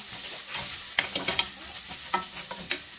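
Garlic sautés in a pan for mung bean soup, giving a soft, steady sizzle broken by a handful of sharp spatula stirs and scrapes.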